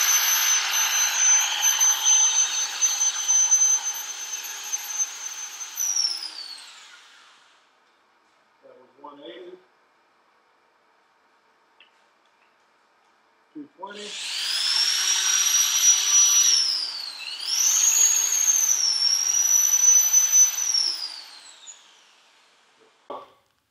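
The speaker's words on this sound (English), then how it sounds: "I just sand 180 and 220 at the best." Wooden acorn being sanded with 180 and 220 grit paper as it spins on a lathe, a steady loud whirring hiss for about six seconds, a quiet gap with faint taps, then a second long sanding pass with the pitch shifting.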